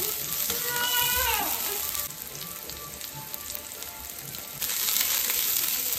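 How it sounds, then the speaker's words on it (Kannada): Garlic and onion frying in oil in a home kitchen pan, a steady loud sizzle with some stirring and clinking, close up. "ಆಮೇಲೆ ಒಂದಷ್ಟು ಸ್ವಲ್ಪ ಬೆಳ್ಳುಳ್ಳಿ ಹಾಕಿ ಆನಿಯನ್ ಹಾಕಿ ಒಂದು ಸ್ವಲ್ಪ ಚೆನ್ನಾಗಿ ಫ್ರೈ ಮಾಡ್ಕೋಬೇಕು"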